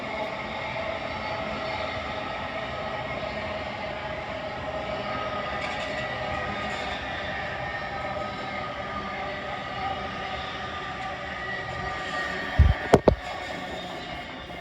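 A Class 800 train rumbles past at a steady pace near Caledonian Road, London, a continuous mechanical drone with a few sharp clunks near the end.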